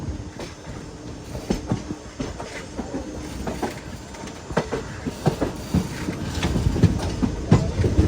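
The Ernad Express rolls along the rails near Ernakulam in cloudy weather, with a steady rumble and irregular clickety-clack wheel beats that grow louder toward the end.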